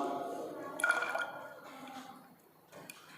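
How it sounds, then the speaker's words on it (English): Water spills from the spout of an overflow can into a measuring cylinder as a solid is submerged during a density experiment, a soft trickling and dripping with a brief splashy burst, close by. "See, water is coming out from the snout."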